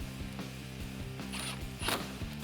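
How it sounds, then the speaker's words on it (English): A ratchet tightens a headlight bolt on a 2014-2015 Chevrolet Silverado 1500, making quick, even clicks at a regular pace, close and fairly quiet, with a couple of brighter metallic scrapes near the end. "Go ahead and thread in your bolt. And then tighten it down."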